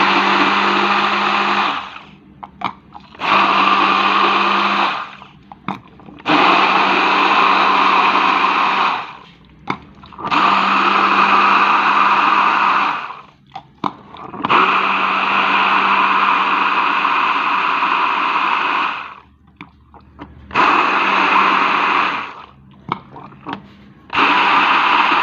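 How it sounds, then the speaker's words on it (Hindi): A blender whirs loudly in repeated bursts blending a raw mango sweet-and-sour drink in a jar, switching on and off several times with brief pauses between runs. "अब इसको हम ब्लेंड करते हैं जार में डाल के।"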